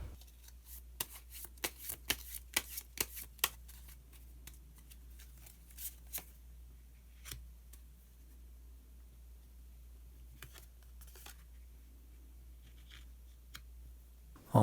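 Tarot cards being shuffled and drawn by hand during a reading, producing a quick run of soft crisp riffles and flicks in the first few seconds, then sparse light taps and slides over a quiet room.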